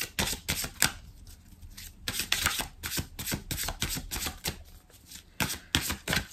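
Oracle cards are shuffled close up, with rapid riffling bursts and crisp slapping snaps in irregular clusters separated by brief pauses.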